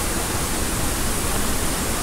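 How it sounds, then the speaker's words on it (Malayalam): Kattikkayam waterfall roars as a constant, dense rush of falling water, loud and close, a steady broadband wash with no pauses or voices. "അടിപൊളി വെള്ളച്ചാട്ടം കേട്ടോ ഇവിടെ നിന്ന് താഴോട്ടും അങ്ങോട്ടും ഉണ്ട് ഇതിലെ കൂടെ താഴെ ഇറങ്ങാനും പറ്റും ഭയങ്കര സൗണ്ടാ ഇവിടെ"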